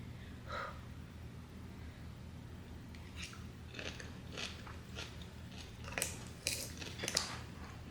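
Close chewing of kimchi during a spicy Buldak noodle mukbang, with soft crunchy bites and mouth sounds that grow sharper and louder toward the end, no talking.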